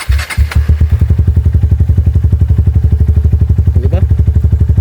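A motorcycle engine idles loudly and close by with a fast, steady putter, and a brief voice and clatter come at the start.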